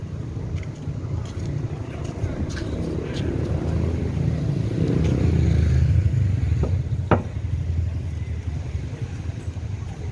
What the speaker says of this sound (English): Got the motorbike taxi.